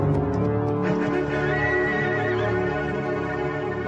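A horse whinnies loudly and close, a long shaky neigh drawn out over a dense, steady background of outdoor noise, with no talking.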